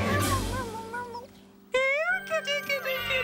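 A cat meows in long, drawn-out, fairly loud calls, one stretching through the first second and more following after a short pause, some rising and wavering in pitch.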